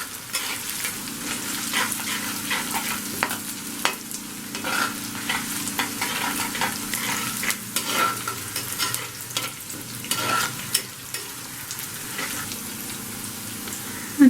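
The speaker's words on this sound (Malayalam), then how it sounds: "ഇനി ഇത് ഒന്ന് ചെറുതായിട്ട് മൂക്കണം. ചെറിയ ഉള്ളി ആയതുകൊണ്ട് പെട്ടെന്ന് മൂത്ത് വരും." Split green chillies, curry leaves and small shallots fry in hot oil for a Kerala fish curry, giving a steady close sizzle with scattered crackles and stirring scrapes throughout.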